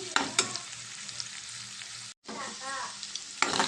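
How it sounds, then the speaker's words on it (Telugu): Egg and chicken frying together in a pan, with a loud, steady sizzle close up and occasional scraping stirs of a spatula, briefly interrupted by a cut. "మనం ఈ ఎగ్ అనేది కూడా పచ్చివాసన పోయేదాకా బాగా ఈ రెండు కూడా ఫ్రై అయ్యేదాకా 1 మినిట్ అయితే ఉంచుకుందాం మనం"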